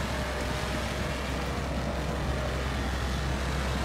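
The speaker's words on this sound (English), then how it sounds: "Dang, look at the engine rumbling back there." A truck engine rumbling as it drives through mud holes, a dense, steady, loud roar with heavy low rumble that holds without pause and no talking.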